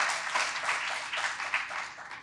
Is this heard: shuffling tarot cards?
no